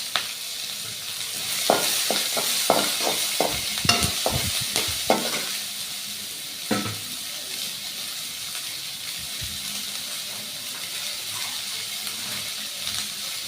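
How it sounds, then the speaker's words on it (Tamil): Onion and a dried red chili sautéing in a pan, loud close sizzling with a quick run of scraping stirs early on, then a steadier hiss of frying settling down, no voices. "அது நல்லா கொஞ்சம் வதங்கணும்னா நம்ம வெங்காயம் சேர்த்துக்கலாம்."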